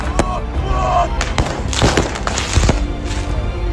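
Firecrackers set off by rioters in the Al-Aqsa Mosque compound, heard as several sharp bangs and thuds scattered through a noisy outdoor crowd scene.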